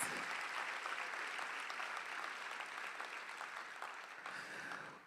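Crowd applause for faculty, staff and students on the platform at a university convocation and new student orientation, a dense, fairly quiet roar of clapping tapering slightly toward the end.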